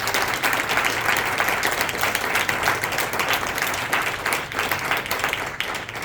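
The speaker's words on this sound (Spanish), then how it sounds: "Denle un aplauso" A church congregation gives a round of applause at a Christmas gathering of pastors, sustained crowd clapping that stays fairly even and slightly distant, with a low murmur underneath.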